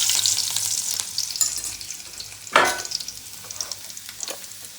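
Garlic and cumin sizzle in hot oil, a steady crackling fry with occasional stirring scrapes and one louder burst partway through, close up with no talking.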